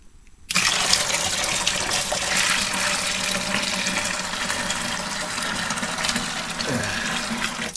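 Hot water gushes and pours loudly over blueberries to blanch them, starting abruptly after a brief quiet moment and continuing as a steady close splashing stream.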